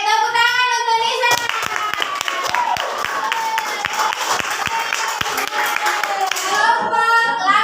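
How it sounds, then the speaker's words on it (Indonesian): Students clap together in a classroom during a lesson on electric circuits, a sustained burst of applause with sharp individual claps, while children's voices chatter briefly at the start and end. "tepuk tangan untuk Nisa."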